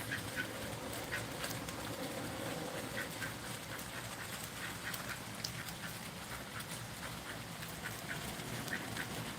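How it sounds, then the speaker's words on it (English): Backyard ducks quack in repeated short bursts at moderate distance, an irregular chatter of calls over a low steady background hum, with no speech heard. "You hear my ducks."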